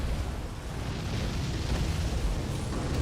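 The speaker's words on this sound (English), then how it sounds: "Once again, it's going to breathe fire" A boss in the Elden Ring video game breathes fire, a dense, sustained roaring rush of flame that stays loud and steady throughout, with a heavy low rumble beneath it.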